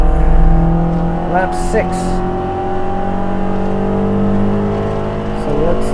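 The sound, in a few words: Spec Miata race car engine in VR racing game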